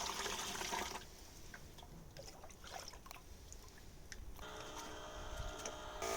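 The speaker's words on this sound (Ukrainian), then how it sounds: "Суміш переливаємо до баку." Fungicide spray mixture poured from a bucket into a sprayer tank during orchard tree treatment: a steady liquid rush with trickling splashes, fairly near and continuous, with no talk over it.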